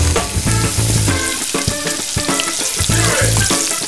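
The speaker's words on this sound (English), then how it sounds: "So I just want to lightly sweat the onion, just soften it." Chopped onion sizzles in olive oil in a hot pan, a bright steady frying hiss broken by repeated clanks and taps of a utensil against the pan, with no talking.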